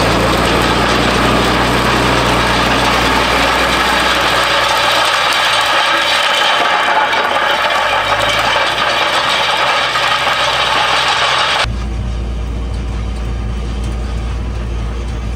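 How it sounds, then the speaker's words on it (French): A Massey Ferguson tractor working in a field gives a loud, continuous engine drone with mechanical rattling, then cuts abruptly to a lower, steadier hum near the end. "vous allez pouvoir voir le tracteur en action."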